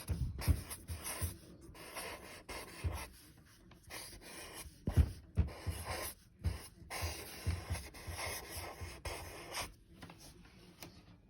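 A teacher writes on a classroom board, producing irregular tapping and rubbing strokes in short bursts with pauses, fairly close but quiet, with no speech.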